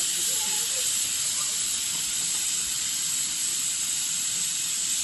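Onions and tomato cooking in a pan for a simple egg curry, giving off a steady, close sizzling hiss that holds evenly throughout with no pauses.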